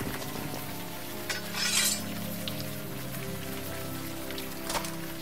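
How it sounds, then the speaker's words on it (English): Rain in the adventure game Unavowed, a constant patter of rain on surfaces with a low ambient hum beneath and a few louder splashy bursts, steady and close. "I mean, it's raining."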